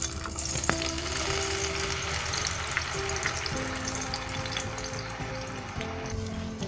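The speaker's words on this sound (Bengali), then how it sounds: "তেলটা হালকা গরম হয়ে গেলে এর মধ্যে আমি 1 কাপ পরিমাণ পেঁয়াজ বাটা আর সাথে আমি 2টা কাঁচামরিচ দিয়ে বেটে নিয়েছিলাম সেটা তেলের মধ্যে দিয়ে দিচ্ছি" Onion paste with ground green chilli sizzles in hot oil in a pan, a loud, steady, close-up crackling hiss that runs without a break, with no voices.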